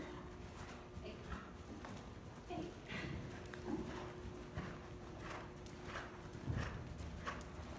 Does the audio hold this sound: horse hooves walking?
yes